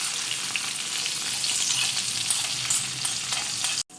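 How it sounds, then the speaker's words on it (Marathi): A hot cumin tempering poured onto a Marathi beetroot koshimbir sizzles loudly and continuously for a few seconds, close up and alone, before cutting off abruptly. "आता ही फोडणी जी केलेली आहे ती आपण ह्याच्यावर घालूया"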